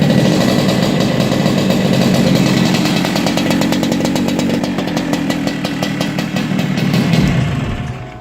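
A Yamaha RX-King motorcycle with a short underslung exhaust revs hard and close, a loud, raspy two-stroke blare held steady for several seconds, then dropping back as the throttle closes near the end.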